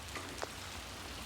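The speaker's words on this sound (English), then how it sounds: "And it's raining pretty good" Steady rain falls outdoors on a steep, muddy hill, a soft, even, faint hiss of drops with no voices over it.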